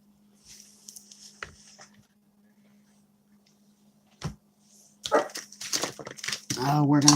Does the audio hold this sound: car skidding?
no